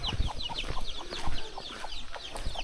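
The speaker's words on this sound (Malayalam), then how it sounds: "കുറേ കോഴിക്കുഞ്ഞുങ്ങളും കോഴിപ്പടയും ഒക്കെ കാണാം." Chickens and chicks in Buscalan, a mountain village in the Philippines, clucking repeatedly at close range, with a busy overlapping stream of short calls and high peeps, no voices.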